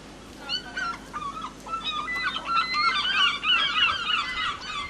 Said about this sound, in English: Fucking 8 seagulls.